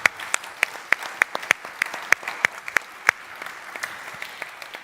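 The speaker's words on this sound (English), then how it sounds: "Ladies and gentlemen, applause." Moderate audience applause follows a panel discussion at a conference on investing in and rebuilding Ukraine, a scattered group clapping with distinct individual claps, fairly quiet and brief.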